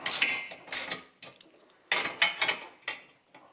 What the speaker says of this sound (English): I'm going to hold that nut with a pair of pliers, and then I'm going to tighten it with a socket.